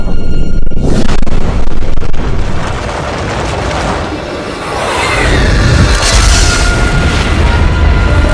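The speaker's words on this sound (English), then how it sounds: "The colossal impact is more powerful than 10 billion Hiroshima bombs, blasting vaporized rocket debris in the atmosphere." Massive asteroid impact explosion effect, beginning with a loud booming blast and settling into a long, dense, roaring rumble that swells again toward the end, with no voices present.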